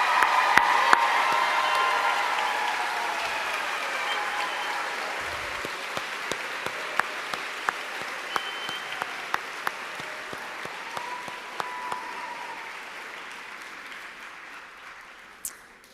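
An audience at a physician assistant white coat ceremony applauds the class of 2024, sustained dense clapping with a few cheers that swells at first and then gradually fades away.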